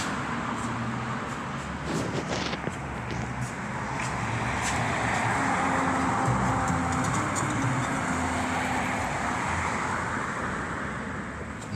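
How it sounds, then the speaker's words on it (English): Busy street traffic in Mexico rumbles steadily with many cars passing at sundown, a continuous wash of engines and tyre noise with a few sharper clatters near the start. "Lots of cars."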